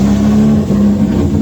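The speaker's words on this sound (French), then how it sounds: "L'échappement libre, c'est peut-être un petit peu trop." BMW E36 Compact with a swapped engine and an open exhaust: a loud, close, sustained rough drone with a steady low pitch, holding roughly level for the whole moment, no voices.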